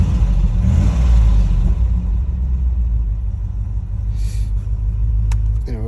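A V8 Range Rover P38 engine idles while running on LPG, giving a steady low rumbling drone with a slight swell early on, heard close up and alone.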